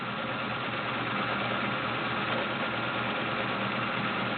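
Kenmore 1753 heavy-duty sewing machine stitching an L-shaped stretch pattern, a steady close motor hum with rapid needle chatter, continuous and even with no talking.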